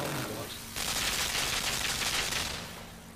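A machine gun fires a dense burst of rapid shots in the video game Limbo, then the fire tapers off.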